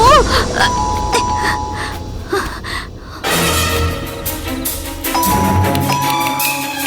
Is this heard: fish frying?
no